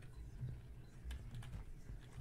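Quiet keyboard typing while playing The Typing of Isaac, a few soft clicky keystrokes in a short burst at low level.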